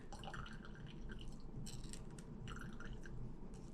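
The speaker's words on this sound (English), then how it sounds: "I'm basically just pressing on the elderberries that are left in the pot, because I want to get all those juices out of the berries" Cooked elderberries pressed through a strainer with a spoon to squeeze out their juice, faint wet squishing and dripping with intermittent metallic scraping, close and quiet, no talking.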